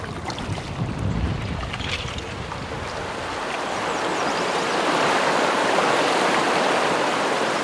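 Creek water rushing through a canyon, a broad steady hiss that grows louder as it nears, with gusty wind buffeting the microphone early on.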